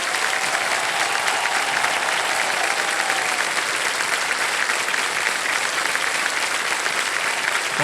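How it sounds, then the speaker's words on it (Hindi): Steady, sustained applause from a quiz show studio audience, dense even clapping throughout with no pause. "तालियां बजती रहें इनके लिए"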